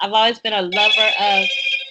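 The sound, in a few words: telephone ringing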